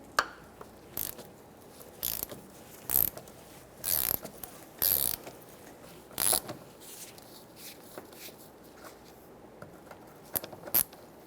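A ratchet with a 10mm socket breaks free a 6mm nut on a parking brake cable bracket of a 1995-2004 Toyota Tacoma, giving short, close bursts of clicking spaced out over a quiet background.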